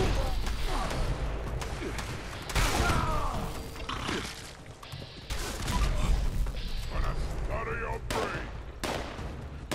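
Gunfire in Fallout 76 during the Uplink daily ops at the Burning Mine: sharp shots and short bursts hit irregularly among crashes and thuds, loud and close, with a game voice heard over parts of it.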